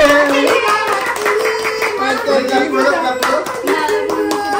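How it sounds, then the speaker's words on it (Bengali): Hands clap in quick, uneven bursts at a family birthday celebration, close and fairly loud, mixed with lively voices including a child's. "হাততালি মা, হাততালি হাততালি"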